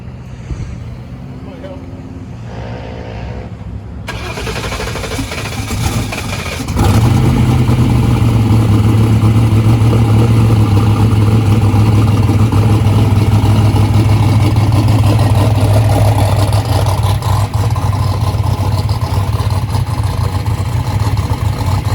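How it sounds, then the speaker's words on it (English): A turbocharged Ford Mustang drag race car sits at a drag strip at night, its engine rising from a low idle into a loud, sustained high-rpm roar close by. "We're going to be making a pass here pretty soon in Randy's car, hopefully."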